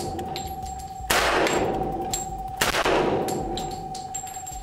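Two loud, sharp shots from a Hi-Point pistol ring out about a second and a half apart at close range, each followed by a fading echo over a steady background tone.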